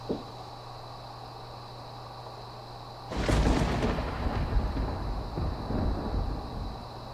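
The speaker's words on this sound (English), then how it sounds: "They made a thunderstorm, man." Quiet background hum, then a sudden loud crack of thunder that rolls into a long, heavy rumble, fading gradually over several seconds.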